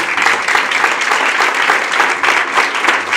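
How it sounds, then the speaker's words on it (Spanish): Wedding guests at a church ceremony break into loud, sustained applause for the newlyweds, with dense clapping that carries on without a break. "Le damos un fuerte aplauso."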